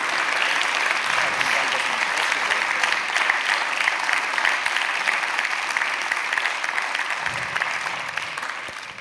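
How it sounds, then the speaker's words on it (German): An audience at the Obermayer Awards 2023 ceremony claps in sustained, dense applause that stays loud and even throughout, fading slightly at the end. "So, jetzt nochmal einen schönen Applaus Ihrerseits"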